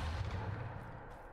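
A Depulso spell cast in the video game Hogwarts Legacy, heard as a loud, low rumbling blast that sustains briefly and then eases off slightly, with no talking.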